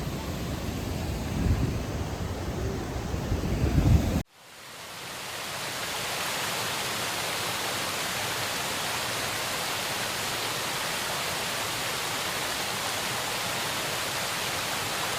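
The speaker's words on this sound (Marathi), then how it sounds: "पण वॉटरफॉल बघा" A steady, loud broadband roar of falling water at Kuderan Waterfall near Badlapur fills the scene after a brief burst of wind-like noise at the start, continuous and close.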